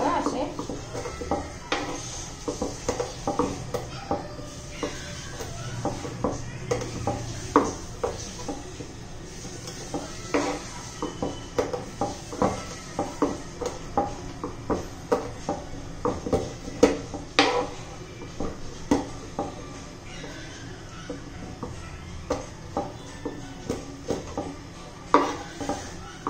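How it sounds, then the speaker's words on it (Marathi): Cashew and almond pieces being chopped on a board in a home kitchen, a long run of sharp, irregular knife taps and clinks at moderate loudness, with occasional utensil and dish sounds. "थोडे मी काजूचे बदामाचे तुकडे करून घेते"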